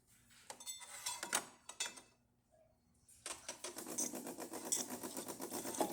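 A DeLonghi Magnifica espresso machine after a full tune-up dispenses hot water, with a few faint clicks and knocks giving way to a steady, quiet pumping buzz with rapid rhythmic pulses.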